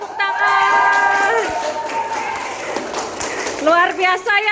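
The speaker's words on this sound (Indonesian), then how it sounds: "semuanya tepuk tangan." Students and teachers clapping together in a classroom, a brief burst of applause mixed with excited voices, while a teacher talks loudly over the noise.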